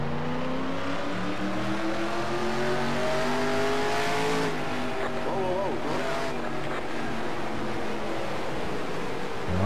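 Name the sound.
race car engine in the video game NASCAR Racing 2003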